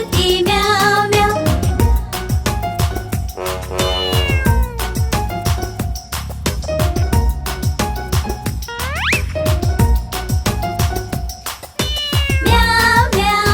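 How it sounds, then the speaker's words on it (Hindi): A cat meows repeatedly in a Hindi nursery rhyme, with rising and falling meow cries set against loud, busy music that plays throughout. "बिल्ली करती म्याऊ म्याऊ"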